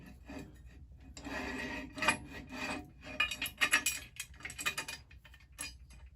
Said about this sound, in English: I'm going to have to file that down just a little bit to make it work better.